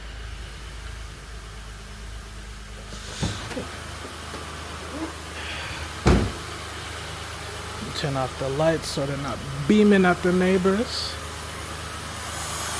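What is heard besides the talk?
car engine started and idling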